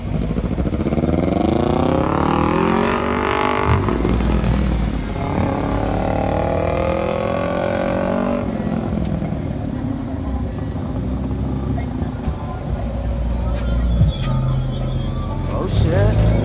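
A Honda Civic EM2 engine drones and rises through revs as the car drives, pitch sweeping up and down at a car meet, with people talking over it.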